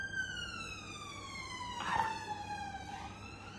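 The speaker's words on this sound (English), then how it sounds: "It's okay if you get interrupted by police sirens every 2 minutes." A police car siren wails at night, a steady falling tone with a brief burst of noise in the middle, heard at a distance over a low background hum.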